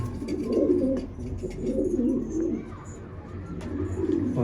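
Pigeons coo nearby in soft, repeated low rolling calls that come in several bursts over a few seconds, with faint background noise.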